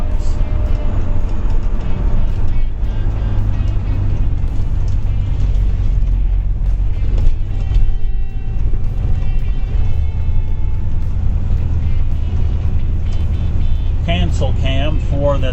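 A 1967 Chevrolet Impala SS drives along, its steady low engine and road rumble filling the cabin while someone talks over it throughout, with a brief higher-pitched sound near the end.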